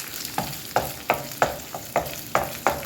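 Liver, kidneys and spleen are stirred and sautéed in a pan, with a hissing sizzle broken by regular scraping stir strokes about every third of a second, close and clear.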